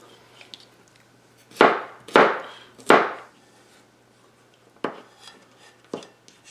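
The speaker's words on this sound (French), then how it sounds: "On fait simplement des petits morceaux carrés de l'ail." Knife chopping garlic into small square pieces on a board for a chicken stir-fry: three firm close chops in quick succession, a pause, then two more lighter cuts, each sharp and percussive against quiet room tone.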